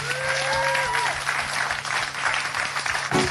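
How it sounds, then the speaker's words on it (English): Audience applause at a Hawaiian island music performance, a steady wash of clapping with a brief voice and a sustained low hum underneath, fairly close and continuous for a few seconds. "And mahalo for your aloha and claps."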